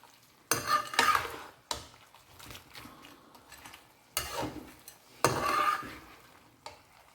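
Garlic butter shrimp are stirred in a pan in several distinct scraping bursts, with a faint sizzle underneath and quiet gaps between strokes.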